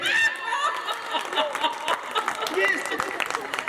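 An audience of women claps along with laughter and chuckles at a light-hearted Hindi talk about husbands and wives, while a voice speaks over the scattered applause.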